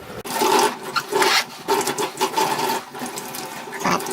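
Water runs from a tap to rinse water-based polyurethane paint from a brush, a close, fluctuating splashing rush that surges and dips in uneven bursts.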